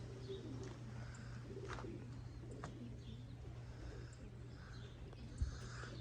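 Racing pigeons from a loft race team coo softly outdoors on a warm day, low murmuring calls over a steady background hum, with a few faint chirps and a brief knock near the end.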